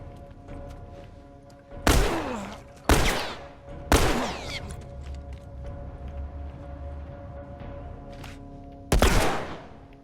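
Gunfire in The Last of Us Part II, four sharp, loud shots spaced irregularly, with three in quick succession early on and one near the end, each ringing briefly over a steady hum of game ambience.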